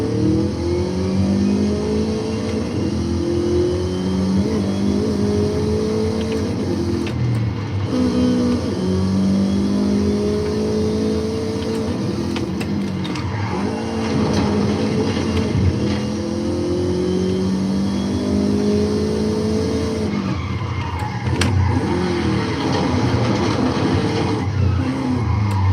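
Car engine in the racing game Forza Horizon 5 on a sim rig, revving loud and constant with rising and falling pitch as gears change, over steady road and tire noise and a few faint squeals.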